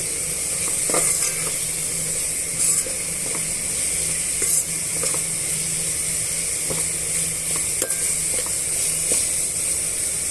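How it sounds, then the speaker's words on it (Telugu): Ginger garlic paste and coconut fry in a pan for mutton biryani gravy, giving a loud, steady sizzle with occasional spatula taps and scrapes throughout. "అల్లం వెల్లుల్లి పేస్ట్ కొబ్బరిని యాడ్ చేశాను ఇవన్నీ కూడా బాగా వేగనివ్వాలి"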